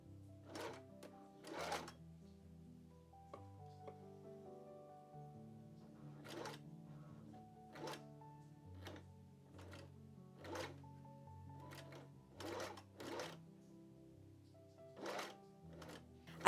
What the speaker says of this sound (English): I proceeded to sew the slowest I have ever sewed before